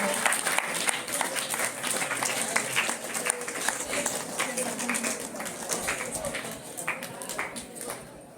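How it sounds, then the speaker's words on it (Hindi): Applause from a school audience greeting a lamp-lighting ceremony at a village assembly event, a steady, fairly dense round of clapping lasting throughout, moderately near. "जोरदार तालियों से इस दीप प्रज्वलन के कार्यक्रम का अभिनंदन किया जाए।"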